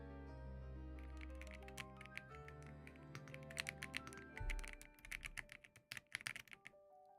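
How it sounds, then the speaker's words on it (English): Keys clatter on a new green 60% computer keyboard, quick irregular clicks and clacks held close, starting after a low hum and growing busier toward the end, with no talk. "Let me see if I can get it close enough for you guys to hear my new keyboard"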